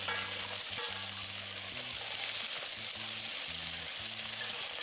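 Onions sautéing in a pan for red beans with butternut squash give off a steady, close, loud sizzle and crackle that runs unbroken throughout, with low clunks of a utensil or pan underneath.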